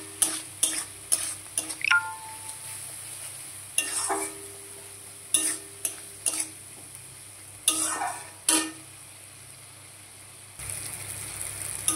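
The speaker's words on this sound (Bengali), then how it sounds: "তো পোস্ত বাটাটা দিয়েও আমি কিছুক্ষণ কষিয়ে নেবো।" Poppy seed paste for paneer posto fries in a pan, with a soft sizzle and bursts of spatula scraping against the metal at irregular intervals, close and clear with no voices.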